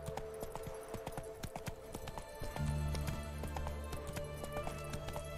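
A horse gallops in The Witcher 3: Wild Hunt, its hooves beating a quick, steady clip-clop up close, set against sustained game music that swells partway through.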